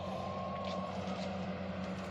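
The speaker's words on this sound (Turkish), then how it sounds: "Otobanın üstündeyim onun için. Araba sesi geliyor." Cars and trucks pass on a nearby highway beside a farm, a low, steady, fairly quiet rumble of traffic with no voices.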